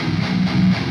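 Heavy distorted guitars tuned to standard B, played without a detune pitch shifter, a thick sustained wall of chugging sound that cuts off abruptly after a second.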